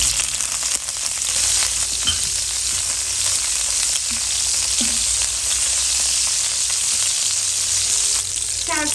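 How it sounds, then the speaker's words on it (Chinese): Chopped scallions frying in hot oil in a wok, a loud continuous close sizzle and hiss that holds steady throughout with occasional faint scrapes of stirring. "油热下入葱花爆香"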